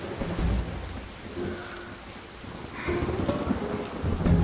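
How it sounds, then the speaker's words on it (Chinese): Thunderstorm with heavy rain at night, rumbling thunder rolling in and out over a steady roar of rain, with a louder swell of rain and thunder toward the end; no talking. "这深更半夜，狂风暴雨，电闪雷鸣"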